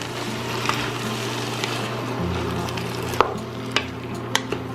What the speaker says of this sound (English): I've got some petite diced tomatoes that I'll put in here. Stir it around a little bit.